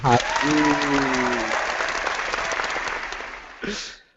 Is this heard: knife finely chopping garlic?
no